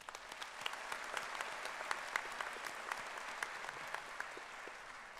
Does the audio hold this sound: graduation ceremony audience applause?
yes